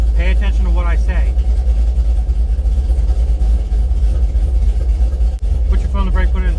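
A car with a transmission fault idles after being started, its deep, steady engine rumble close and loud throughout, while people talk over it.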